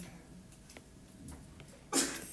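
A single sneeze bursts out sharply in a morning probability lecture in a classroom, heard near the end over quiet room noise.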